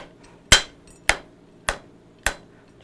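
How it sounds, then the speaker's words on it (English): A blacksmith at Sam Houston hammers a point onto the end of a hot iron bar. Five sharp, ringing strikes fall at an even, steady pace, loud and close. "hammer a point on the end of this bar"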